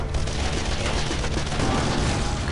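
Continuous dense weapon gunfire in the Shoot Many Robots video game, a loud sustained rattle of rapid shots with no break.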